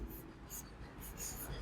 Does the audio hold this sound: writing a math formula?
yes